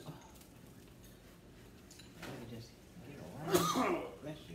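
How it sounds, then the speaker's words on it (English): A single sharp sneeze bursts out near the end, loud against quiet room noise and faint movement. "Sneeze."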